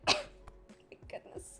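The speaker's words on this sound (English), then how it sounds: "I'm sorry if I'm coughing into the mic." Man coughs once into a microphone during a live stream, a single sharp close burst followed by quieter breathy throat noises.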